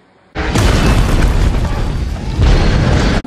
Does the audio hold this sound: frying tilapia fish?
no